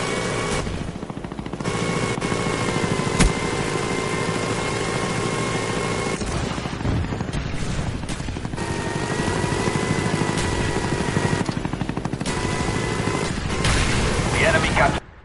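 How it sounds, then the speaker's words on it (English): A loud, continuous mechanical drone of a spy plane flying overhead in Call of Duty: Black Ops runs steadily for about fifteen seconds, overlaid with rapid bursts of gunfire and game sounds. "Our spy plane's in the air."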